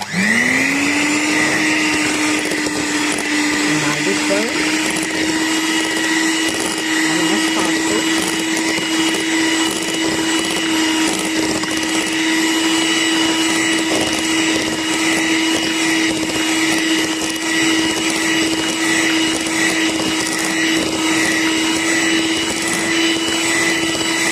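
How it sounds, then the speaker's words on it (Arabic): Electric hand mixer whipping cream for cold kunafa, a loud, steady high-pitched motor whine that holds constant and close throughout, with no talk. "هنكمل بقى بالمضرب عشان تعلى جامد."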